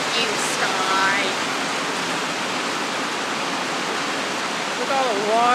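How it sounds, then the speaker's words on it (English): Rainwater rushes downhill, pouring steadily in a broad, noisy wash, with a voice briefly heard over it at the start and end. "Look at all the water strolling downhill."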